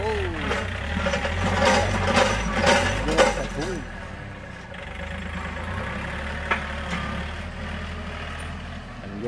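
A heavy diesel Yanmar tractor engine rumbles and labors nearby pushing soil, its tone rising and falling as it works, with faint voices now and then.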